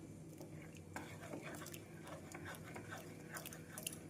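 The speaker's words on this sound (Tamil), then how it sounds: "பருப்பை நாம் நன்றாக மசித்து விட வேண்டும்" Soft, quiet squelching and scraping of cooked toor dal being mashed in a pot for sambar, in uneven repeated strokes with occasional light clinks of the utensil.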